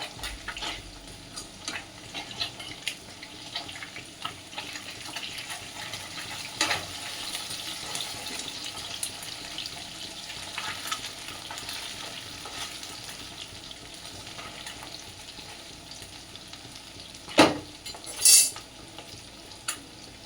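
Fish sizzles steadily in a hot frying pan for a home-cooked chicken and fish dish, a continuous bright crackle interrupted by a couple of sharp clinks and scrapes near the end as it is flipped.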